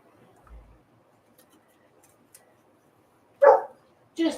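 A dog barks indoors at home, two short yaps near the end after a mostly quiet stretch with faint background rustling.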